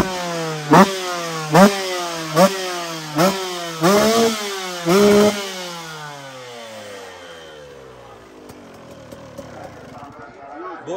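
65cc motocross bikes ride a track at a world cup event in Finland, engines revving in repeated rising bursts close by, then fading into a distant whine as they pull away.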